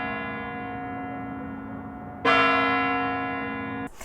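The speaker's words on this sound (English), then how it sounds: "the Kremlin clock chimes 12 times." The Kremlin clock bell strikes at New Year's midnight, a deep resonant chime ringing out over a sustained hum, then a second strike begins just as the ring fades.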